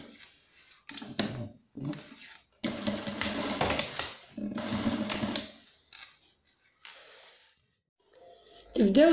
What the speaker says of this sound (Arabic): القيمة وتبداو تخيطوا معايا دركا المكانة